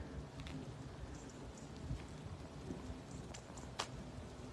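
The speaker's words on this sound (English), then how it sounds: "the rain is coming down at the moment" Steady rain falls outdoors on the grounds of a festively decorated building, a soft continuous patter with a few sharper drops, fairly faint and with no one talking.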